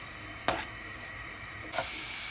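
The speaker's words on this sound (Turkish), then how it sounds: "Biraz soteleyelim." Zucchini sautéing in olive oil in a pan gives a steady, soft sizzle and hiss, with two brief louder bursts as the pieces are stirred or tossed, and no talking.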